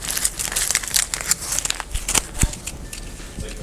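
Aluminium hair-colouring foils crinkling and crackling close up in sharp, irregular bursts, loud and alone.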